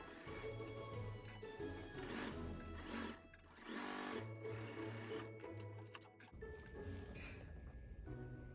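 A home sewing machine chain stitches quilt blocks onto a sweatshirt, its steady motor hum and needle chatter running continuously with short pauses and restarts.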